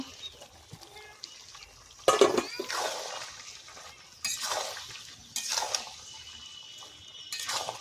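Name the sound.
stir-frying duck curry with potato in a pot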